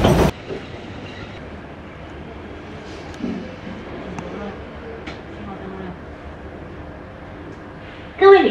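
An Alishan Forest Railway train runs along with a steady rolling rumble of wheels and carriages, broken by faint clicks and a louder burst near the end.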